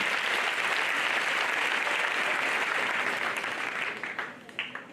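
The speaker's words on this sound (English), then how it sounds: "Can we give God a very big hand clap for that?" Audience at a secondary school inter-house debate competition clapping for God, a loud, dense, sustained wash of applause that thins into scattered final claps near the end.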